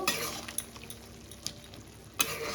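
Mutton keema ghugni is stirred in a pot just after hot water goes in, with quiet watery swishing and a few light metallic clinks of a spoon against the pot.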